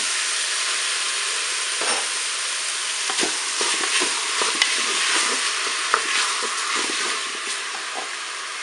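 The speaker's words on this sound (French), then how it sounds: "Je vais ajouter les tomates." Tomatoes hit a pot of beef and courgettes for lasagne in a Cookeo, setting off a loud, steady sizzle with bursts of crackle and brief stirring scrapes throughout.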